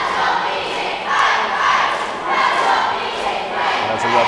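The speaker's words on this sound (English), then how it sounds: "it looks like a full crowd tonight" A full crowd in a gym at a high school boys basketball game between Palmer and Renaissance: loud, continuous crowd noise swelling in waves, with shouts and a few thumps and no clear speech.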